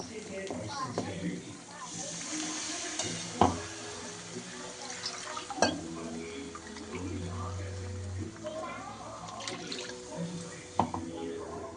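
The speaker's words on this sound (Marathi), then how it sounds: "आता आपण त्याच्यात थोडंसं पाणी टाकू." Water is poured into fried masala for a fish curry in a home kitchen. It makes a steady splashing, sizzling wash with a few sharp clinks, and a voice talks over it throughout.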